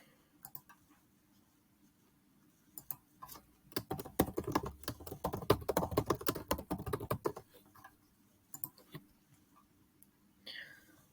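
Fast, steady typing on a computer keyboard while entering a date into a form, a dense burst of close, light key clicks in the middle with sparse taps before and after.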